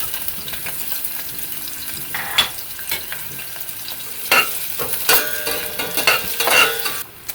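Small chopped onion frying and being stirred in hot oil in a pan, a steady sizzle with scraping and stirring strokes throughout, louder bursts now and then, close and with no talking.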